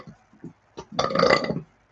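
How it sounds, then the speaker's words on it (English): One long, loud burp rumbles up close after a few small throat clicks and faint mouth noises, then trails off into silence. "So the burping is a representation of me clearing energy from the collective."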